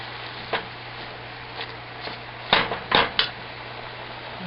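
A utensil knocks and scrapes against a pot as wilted wild leek greens are turned over, a few sharp clinks spread out over a quiet steady hum, close and clear.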